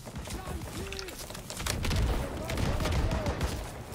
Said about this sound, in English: There's the flak gun!